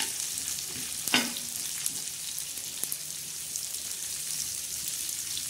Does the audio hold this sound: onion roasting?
yes